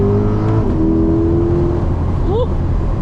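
A loud Chevrolet C8 Corvette accelerates hard in Sport+ mode, its engine droning close and steady before a quick rising sweep as it shifts gears.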